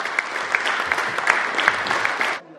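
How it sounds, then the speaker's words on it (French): Applause from elected members in the Corsican Assembly chamber, a brief burst of many hands clapping at moderate distance, with sharper individual claps standing out before it cuts off abruptly. "l'émotion s'exprime alors par de simples applaudissements."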